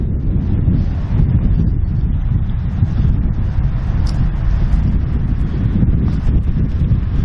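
Loud, constant wind roars against the microphone in a dense low rumble at a quiet wooded spot by an abandoned restaurant, steady throughout with no voices.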